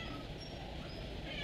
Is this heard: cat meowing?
yes